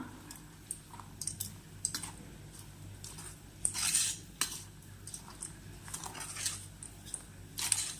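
Hands mix a soft flattened rice dough in a metal bowl, with repeated squishing and occasional clinks of utensil against the rim, close and moderately quiet.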